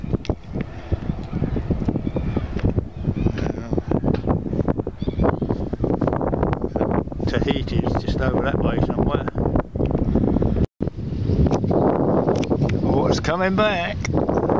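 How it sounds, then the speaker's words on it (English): Strong wind buffeting the microphone on a boat at the shore, a steady loud roar throughout, with someone talking over it. "Wind's dying off."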